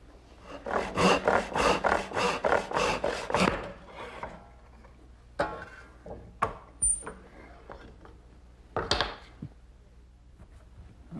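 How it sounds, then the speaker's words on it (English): A handsaw cuts wood for the throat of a marble roll catcher, a run of about nine loud, rhythmic rasping strokes, then scattered knocks and brief scrapes as the work is handled. "I'll cut out the throat of the catcher with a handsaw"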